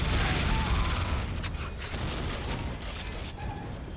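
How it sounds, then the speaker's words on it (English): Dense volley of missiles firing in Command and Conquer Renegade, a loud continuous mechanical rattling barrage that starts strong and thins slightly over four seconds, with faint game noise underneath. "Holy shit, that's a lot of missiles."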